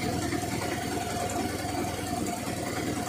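A Honda scooter engine runs close by with a steady, even drone and a faint mechanical buzz throughout, with no talking.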